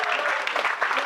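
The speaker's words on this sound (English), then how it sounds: "Round of applause for our 4 contestants" A cruise ship show audience applauds its four contestants, a dense, steady wash of clapping that fills the short moment at a fairly loud, even level.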